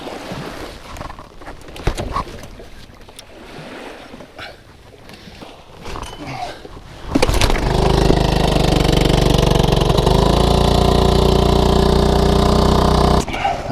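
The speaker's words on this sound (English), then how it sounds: "while the motor kind of warms up in the background there" A boat motor warms up outdoors. After scattered thumps and handling noise, the engine catches and settles into a loud, steady, close drone that runs to the end.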